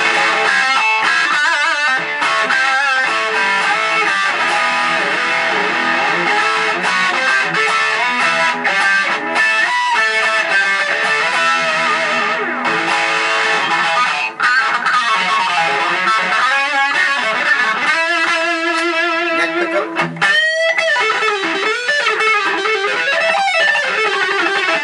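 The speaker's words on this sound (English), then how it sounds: "I'm going to put on some basic overdrive distortion." Electric guitar, a new custom-crafted Golden Lion model, played through basic overdrive distortion, with loud sustained chords and melodic lines ringing steadily throughout, no talking.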